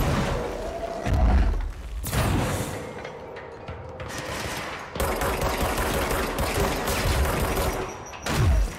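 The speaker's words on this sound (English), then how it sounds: "Oh, that's a grenade." A grenade explosion and gunfire in the game Control, with heavy booming thuds and sustained rapid automatic fire, loud and close, in repeated bursts.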